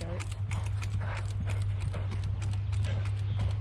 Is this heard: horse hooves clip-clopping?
yes